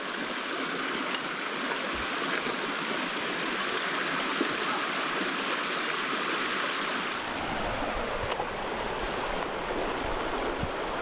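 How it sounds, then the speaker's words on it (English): Sucker Creek in Oregon's Owyhee country flows steadily over rocks, a continuous broadband rush and babble that stays close and even for the whole stretch, with no voices. "sat down by Sucker Creek and allowed the cool, refreshing water to roll over my feet"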